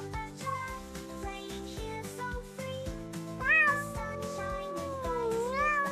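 A kitten meows several times over steady instrumental music with strong harmonics, its rising and falling cries clear and close in the middle and end of the clip.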